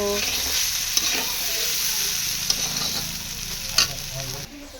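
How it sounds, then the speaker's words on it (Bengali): Potatoes and pointed gourd fry in hot oil with a steady, even sizzle, punctuated by a few sharp utensil clinks before the hiss drops away near the end. "আলু পটল ভাজা বসিয়ে দিয়েছি"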